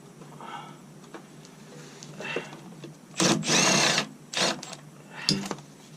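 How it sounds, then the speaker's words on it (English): An impact gun undoes truck wheel bolts during MOT preparation, firing in several short, loud rattling bursts separated by pauses and quieter handling noises in a workshop. "they should all be loosened off enough to get the gun on it now"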